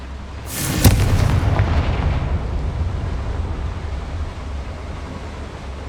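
A Confringo spell blast in Hogwarts Legacy on PS5, a sharp crack followed by a deep, rumbling boom that rolls on and slowly fades over several seconds, with no talking.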